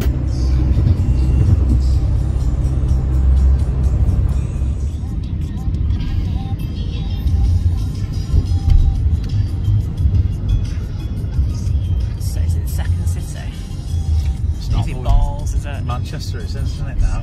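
Steady low engine rumble and road noise from inside a car on a road trip, constant and fairly loud, with people talking over it.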